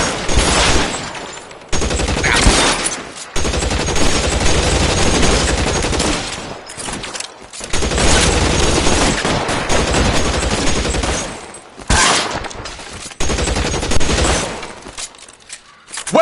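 Sustained bursts of loud gunfire from the video game L.A. Noire, a 1940s Los Angeles crime setting, in dense rapid volleys broken by brief pauses, close and harsh, with no talk over it.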